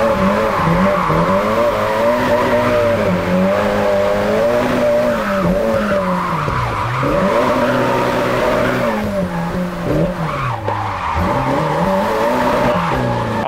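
A racing car in a drift video game, its engine whining steadily and sliding with continuous tire squeal, pitch rising and dipping as it swings through drifts, loud and close throughout.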